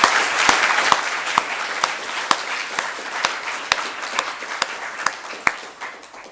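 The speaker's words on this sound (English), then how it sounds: "I'm going to ask for a round of applause for emergency services." An audience breaks into applause for emergency services, a dense, sustained clapping from a large crowd with a few sharp, louder claps standing out near the microphone.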